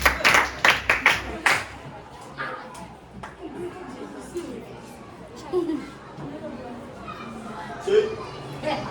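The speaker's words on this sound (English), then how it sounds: "Clap for her." A few sharp hand claps ring out close by in quick succession at the start, then fade into ongoing children's chatter and small laughs in the room.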